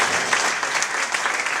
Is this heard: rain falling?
no